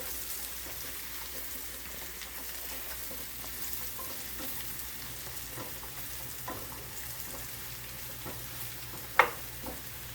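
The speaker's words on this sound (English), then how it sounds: "spoon, get those stirred in here." Mushrooms sizzle steadily in hot grease in a pan, with a spoon occasionally stirring and one sharp scrape near the end; continuous close frying hiss without talk.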